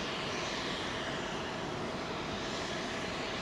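An unmarked Boeing 777 freighter at London Heathrow on runway 27L gives a steady, distant jet engine roar, an even broadband wash with no talk over it.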